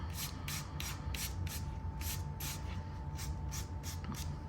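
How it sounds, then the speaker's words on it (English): Light hand sanding on a homemade recipe cookbook craft piece: a steady run of about a dozen quick, evenly spaced scratchy strokes, close by, with a faint constant tone underneath. "All right, just a nice little sanding."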